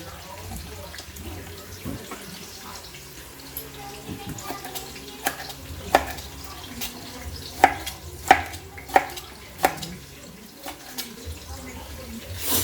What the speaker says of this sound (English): We are going to cut small pieces of these 2 onions, these 2 tomatoes.